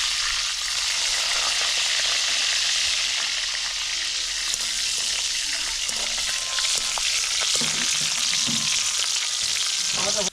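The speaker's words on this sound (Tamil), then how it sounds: "இப்போ இதை பொரிச்செடுக்க போகிறோம்." Steady, loud sizzling of food frying in hot oil, with occasional pops and stirring noises, no voices.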